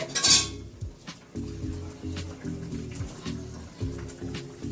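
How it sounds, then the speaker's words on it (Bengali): A metal lid clanks down onto a cooking pot of chopped pieces simmering on a low gas flame, one sharp clatter at the start, followed by soft kitchen clinks and faint muffled voices. "এবারে এটা একটু গ্যাস লো করে ঢাকা দিয়ে রেখে দেবো"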